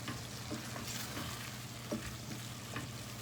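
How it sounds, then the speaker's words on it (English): Peas are stirred into shepherd's pie vegetable filling in a pan: a faint, continuous sizzle with soft, irregular scraping taps from the spoon. "The peas are cooking up nicely. So we'll just stir that in."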